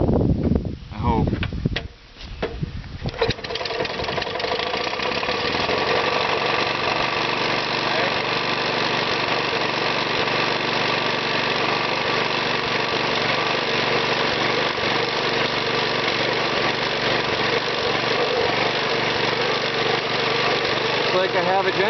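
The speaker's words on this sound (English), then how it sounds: "tried to fill the fuel bowl in the carburetor a little bit. See if this thing will run at all." A generator engine, newly fuelled through its carburetor, sputters and catches after some clunking handling, then runs loudly at a steady idle for a long stretch.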